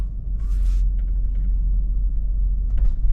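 A Jeep Grand Cherokee WJ idles low and rumbling as it begins to back out, a deep steady engine drone close by with a couple of brief faint clicks and rattles over it.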